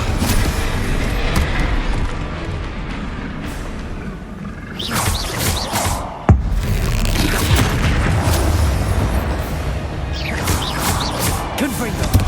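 Blasting spells explode in Hogwarts Legacy in repeated booms and crashing bursts, with one sharp bang near the middle, all under a shouting voice.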